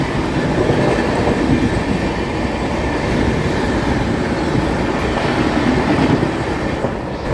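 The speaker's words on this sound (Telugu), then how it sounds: "అన్ఎక్స్పెక్టెడ్గా జోధ్పూర్ మన్నార్గుడి ఎక్స్ప్రెస్ ట్రైన్ కూడా క్రాసింగ్ అయిపోయింది మనకి" The Jodhpur–Mannargudi Express rushes past on the adjacent track, a loud, close, continuous roar of wheels and rattling coaches with faint rhythmic clatter, lasting the whole stretch with no voices.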